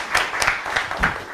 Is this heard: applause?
yes